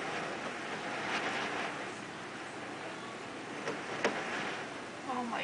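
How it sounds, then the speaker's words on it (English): Wind from a 2009 snow blizzard roars steadily as a broad, gusty rush across the microphone, with brief sharper gusts and faint voices in the background. "Look at the wind."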